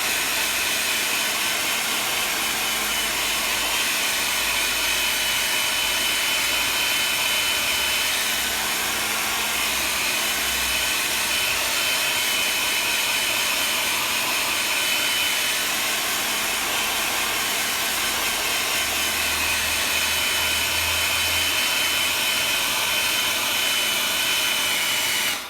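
A blow dryer runs steadily at close range, drying watercolour over wax resist layers, its loud even rushing hiss holding without a break for the whole stretch.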